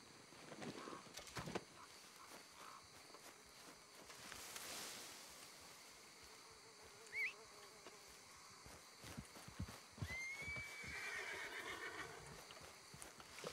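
In the Red Dead Online game, a horse whinnies and hooves clip-clop among faint ambient insect buzzing; the sounds are quiet and intermittent, with scattered sharp thuds.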